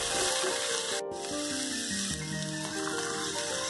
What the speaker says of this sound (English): Now I'm adding these chopped vegetables, as you can see. We will fry it until it is cooked completely.